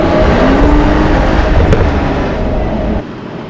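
A Porsche Boxster engine roars loud and close in one sustained, steady run, the note rising slightly, before cutting off abruptly near the end.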